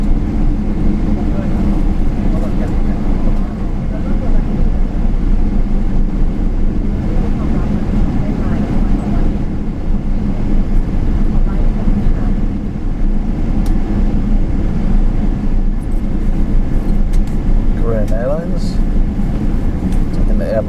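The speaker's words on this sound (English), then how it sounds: "Looks like another aircraft taking off at the same time." A jet airliner, a Boeing 777 among others departing at a busy airport, roars steadily as it takes off, heard as a broad, constant engine rumble throughout.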